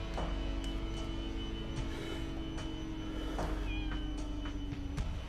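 A cat meows several times in the Deponia video game, short mid-pitched calls scattered over a steady background hum and faint clicks, with no speech.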